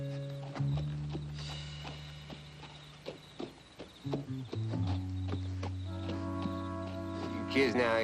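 Hooves of a team of horses clip-clop in an irregular walking rhythm beneath sustained music, with a brief whinny-like rise near the end.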